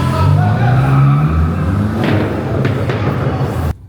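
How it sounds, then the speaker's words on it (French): A Cupra car with a loud exhaust roars past close by, a strong low rumble that fades slightly, with a few sharp knocks before it cuts off abruptly. "gros Cupra avec échappement"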